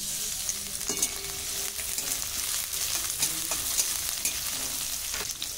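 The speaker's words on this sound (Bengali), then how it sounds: "তেল গরম হয়ে গেছে, দিয়ে দিচ্ছি পেঁয়াজ" Onion frying in hot oil in a wok: a steady close sizzle and crackle, broken by occasional scraping stirs of a spatula, with no talking.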